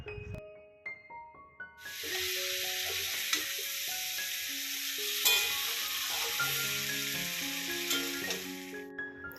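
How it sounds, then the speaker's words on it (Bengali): Fish frying in a wok gives a loud, steady sizzle that starts about two seconds in and runs to the end, with a background melody of sustained tones and no talking. "আর আরেক পাশের কড়াইতে এখন আবার মাছ ভাজা হতে বসিয়ে দিয়েছি"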